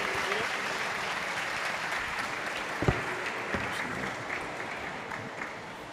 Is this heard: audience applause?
yes